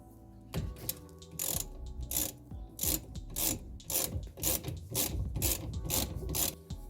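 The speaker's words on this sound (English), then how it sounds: "12mm socket on the back here." A hand ratchet with a 12mm socket turning the parking brake cable bolt during a disc brake conversion, giving fast, steady clicking strokes close up with no talk over it.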